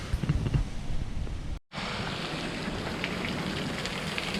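Light rain falls steadily on a surface outdoors on a day off during a trip in near-freezing weather, a soft even patter that cuts out briefly and then resumes at the same moderate level, with no talk.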